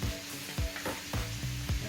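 Ginger and onion fry in a hot pan for fried rice, a steady close sizzle broken by several scraping stirs of the spatula, each sweep rising briefly above the crackle.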